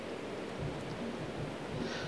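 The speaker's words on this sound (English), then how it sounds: "It's raining right now" Steady, soft rainfall in Minecraft hisses evenly throughout, a faint wash of noise with no distinct drops or voices.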